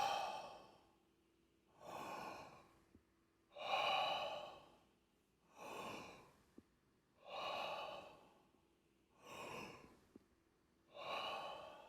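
Forceful exhales through the mouth during bellows (bhastrika) breathwork: six long, rhythmic breaths, evenly spaced, close and alone in a quiet room.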